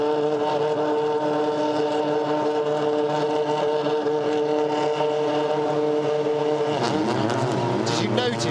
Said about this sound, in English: Did you notice the engine noise?